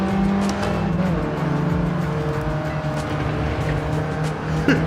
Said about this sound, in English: Just attack the rev limiter.